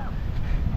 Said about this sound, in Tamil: காற்று சரியான காற்றுங்க.